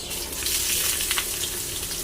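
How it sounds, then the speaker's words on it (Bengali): Onions frying in oil, with a steady close crackling sizzle that runs unbroken throughout, together with a few brief sharper pops. "পেঁয়াজটা একটু ভাজা ভাজা হয়ে যাবে"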